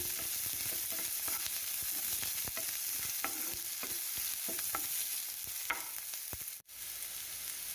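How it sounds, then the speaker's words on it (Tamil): Steady sizzling of hot oil as chopped onion, curry leaves and green chili fry, with intermittent scraping and tapping of a stirring spoon against the pan, close up and without talk. "ஒரு பெரிய வெங்காயம் கட் பண்ணி வச்சுருக்கோங்க, அதை சேர்த்துடலாம்"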